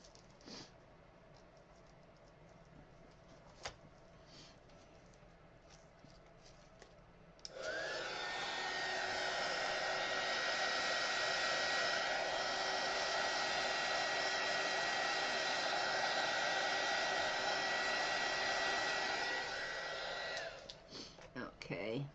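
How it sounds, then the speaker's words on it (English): A heat embossing tool blows hot air to dry epoxy resin on a resin art heart, a steady loud whirring roar that starts abruptly, holds for about thirteen seconds and cuts off, preceded by quiet handling and faint talk. "I'm going to hit it with my heat gun here in a minute to dry it. Well, heat embossing tool,"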